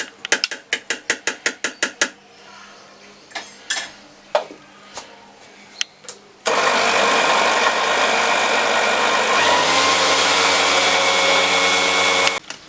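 A kitchen mixer grinder grinds soaked rice and potato into a smooth batter: first a series of short sharp pulses, then a loud continuous whirring motor run until the end.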